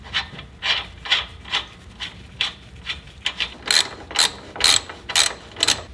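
A ratchet tightens the lower shock bolt and nut during a suspension lift on a 2020 Toyota Tacoma TRD Pro. Loud, close bursts of rhythmic metallic clicking repeat stroke after stroke, growing sharper toward the end, with no voices.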